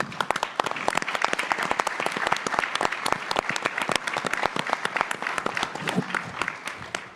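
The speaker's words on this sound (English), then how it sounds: "If we could give them a round of applause, please." An audience at a Veterans Day recognition event claps steadily for the veterans present. The applause is dense and sustained, with many hands beating throughout, and no voices stand out above it.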